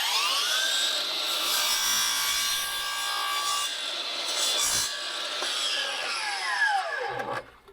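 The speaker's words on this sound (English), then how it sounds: "I'm just going to cut the angle this way." Handsaw cutting a bevel angle through a wooden skirting board, steady close rasping strokes that carry on continuously and end as the cut finishes.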